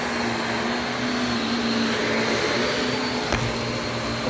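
A Shark vacuum cleaner runs alone at a steady, loud, close whine with a constant motor drone and one faint click partway through.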